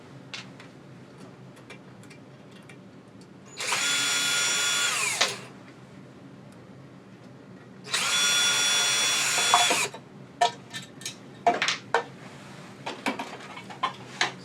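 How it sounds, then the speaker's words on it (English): Power drill backing screws out of a variable speed grinder's shroud, two sustained whirring bursts of about two seconds each, followed by light clicks and taps of handling the parts; no talk. "You just take these screws out and remove that shroud"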